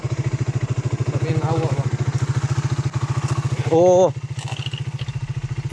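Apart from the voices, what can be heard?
motorcycle engine being started, failing to start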